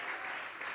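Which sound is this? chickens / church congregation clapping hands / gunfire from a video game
church congregation clapping hands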